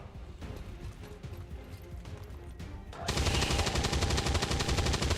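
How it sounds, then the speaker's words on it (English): Rapid automatic gunfire in the video game XCOM 2, a dense, loud burst that starts abruptly about three seconds in after a busy background stretch. "let's just shoot him"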